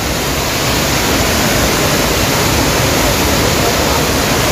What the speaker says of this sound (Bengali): ঝর্ণার ফোর্স তো খুব ভালো।